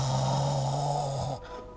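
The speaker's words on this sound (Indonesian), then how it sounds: "Kencang kali suara ngoroknya." A loud snoring sound effect of a man, one long rumbling snore held steady before it cuts off abruptly.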